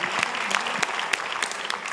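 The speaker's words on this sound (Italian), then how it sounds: "Se facciamo un applauso al maestro." A television studio audience applauds for an honoured maestro near the end of a variety show episode, a dense, steady burst of many clapping hands, close and fairly loud, continuing throughout with no talking over it.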